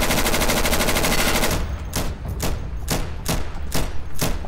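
Loud automatic gunfire in a war video game: an unbroken rapid burst, followed by a string of separate, evenly spaced shots, with no voices.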